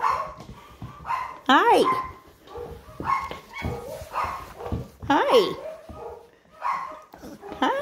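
A young female puppy from a litter whimpers and gives high yips and short barks in quick bursts close to the microphone, while a person speaks softly over the little cries.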